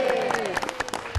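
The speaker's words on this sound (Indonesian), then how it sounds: "Tepuk tangan, kasih suara, yeay" Studio audience applauding during a TVRI motivational talk show, steady clapping for just over a second, mixed with a voice and a sustained tonal line.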